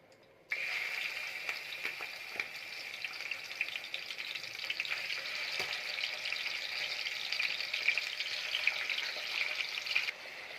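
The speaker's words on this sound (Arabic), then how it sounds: "كده الطاسه سخنت وهنزل بالكبده" Liver hitting a very hot pan of oil and ghee, bursting into a loud, sustained sizzle after a brief quiet start and hissing steadily until near the end.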